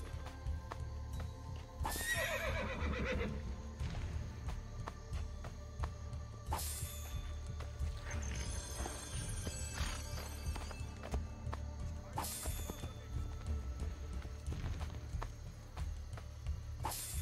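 In Assassin's Creed Brotherhood, a horse whinnies loudly several times, with hoofbeats clopping beneath and a steady game background hum throughout.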